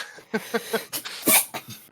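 A sneeze bursts out near the end of a short run of breathy throat sounds and coughs, close and fairly loud against a quiet room.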